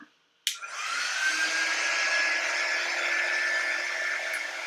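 A hair dryer blows on a leaf for a fall craft project, switching on with a sharp click and then holding a steady, close, fairly loud whirring rush that runs to the end without talk.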